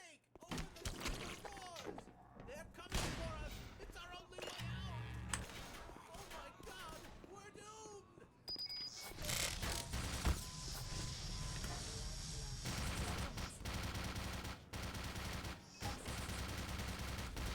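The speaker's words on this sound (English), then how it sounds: "That there was a turret. Turrets are very useful enemies that will shoot anyone and anything that comes within their range." Rapid bursts of turret gunfire from the video game Black Mesa ring out loud and close, starting as scattered shots, then becoming a dense, continuous barrage with thuds and impacts.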